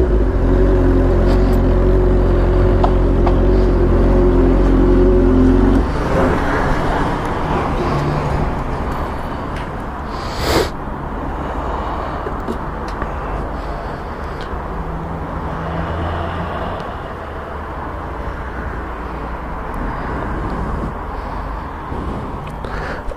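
A motorcycle rides through São Paulo on a cold night, its engine and wind roar loud at first, then settle into a steadier, softer running drone with passing road noise.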